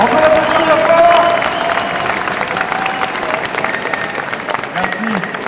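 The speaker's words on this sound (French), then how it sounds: "On peut l'applaudir bien fort." Loud applause from a crowd at a cosplay contest during an e-sports event in Lyon, a sustained wash of clapping that tapers slightly, with voices mixed in.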